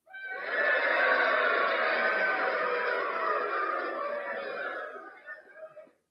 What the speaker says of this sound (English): I got cheering crowd.